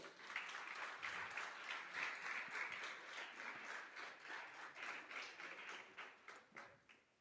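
A church congregation applauds during a sermon, a dense, steady patter of many hands clapping at moderate distance, holding for several seconds before gradually thinning and fading out at the end.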